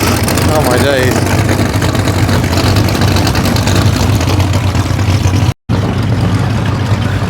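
A Ford Model T hot rod with a considerably modified four-cylinder engine runs at a vintage hot rod meet on a Welsh beach, giving a loud, steady, close-up engine rumble with a brief dropout near the end.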